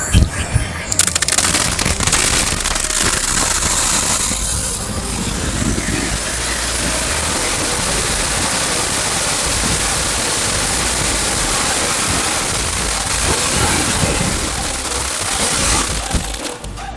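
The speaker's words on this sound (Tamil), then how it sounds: "Crackling fountain." A crackling fountain firework sprays and sizzles steadily for the whole stretch, a loud, dense hiss dotted with crackles, while a voice talks over it at times.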